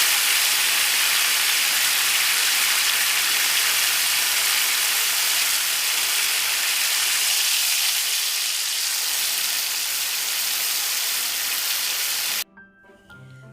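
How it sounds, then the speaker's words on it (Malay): Goat meat laid into a hot pan for roast mutton, giving a loud, continuous close-up sizzle and hiss that holds steady for about twelve seconds before cutting off abruptly. "Semasa letak daging, perlu ada bunyi sizzling seperti ini."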